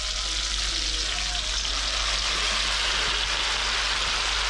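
Pork belly fries in a pot with a steady, dense sizzle and crackle of hot fat, close and even throughout, with no talking.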